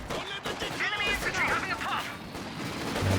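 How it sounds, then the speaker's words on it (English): Rifle grenade launchers firing and exploding during a Company of Heroes 2 2v2 match, with muffled thumps and booms under a steady blend of battle noise, unit voices and talk throughout. "Pretty good hit there from the rifle grenade launcher."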